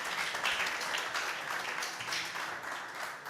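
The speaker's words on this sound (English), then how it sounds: "give a big round of applause to Tony again" Conference audience applauding a speaker at DappCon23, a steady dense wash of clapping filling the whole span at moderate level with no pauses.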